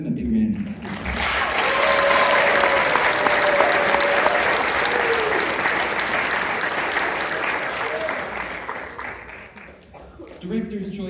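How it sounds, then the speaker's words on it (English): Sustained audience applause fills a school spring band concert hall for about ten seconds, loud and steady, with a few faint voices and whistle-like tones inside the clapping before it tapers off and a voice briefly returns. "Give them a big round of applause."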